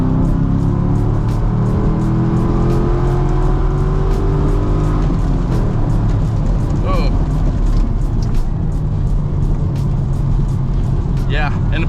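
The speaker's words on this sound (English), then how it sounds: "We'll show you how torquey some of these push rod LS motors are." A Corvette Grand Sport with a pushrod LS V8 pulls from about 60 mph at half throttle, its steady engine drone and road roar loud throughout while people talk over it.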